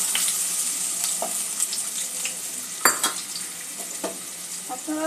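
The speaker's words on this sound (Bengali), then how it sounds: "আলুটা প্রথমে একটু ভেজে নেব।" Small potato pieces fry in white oil in a kadai, a close steady hiss broken by sharp spattering pops and a few metallic scrapes of stirring.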